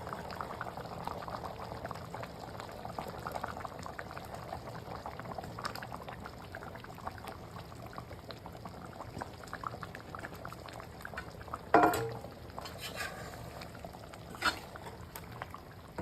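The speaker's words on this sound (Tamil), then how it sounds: "நல்லா குழம்பு வந்து கொதிச்சு வந்துருச்சுங்க" A pot of fish curry bubbles at a steady boil, dense continuous simmering with a few louder pops and clinks near the end; no talking.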